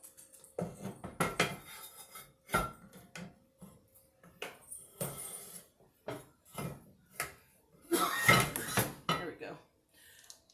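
A 9x13 crock pot baking pan and dishes handled in a kitchen sink, with repeated close metallic clanks, clinks and scrapes in irregular bursts and brief pauses between them.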